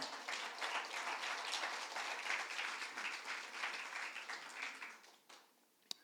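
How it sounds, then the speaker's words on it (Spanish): A church congregation gives sustained applause during a sermon, a steady wash of clapping heard from some distance that fades after about five seconds, ending with a single sharp knock. "no sé si es importante darle un aplauso a Dios por eso"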